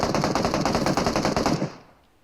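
Sustained rapid automatic gunfire in the mobile battle-royale game PUBG Mobile, a loud continuous burst of closely spaced shots lasting under two seconds before cutting off and fading into quiet.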